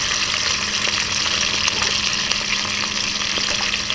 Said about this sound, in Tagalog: Ngayon na mainit na po ang ating mantika ay ipiprito muna natin itong ating